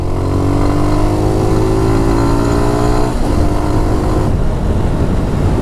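A first-model Hero Honda Hunk motorcycle engine revs loudly up close, its pitch climbing steadily before dropping back to a rough idle rumble midway through.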